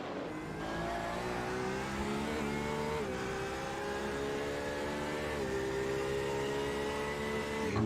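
Porsche race car engine heard from the in-car view during a GP race, revving continuously and loud at close range, with gear changes shifting the pitch throughout.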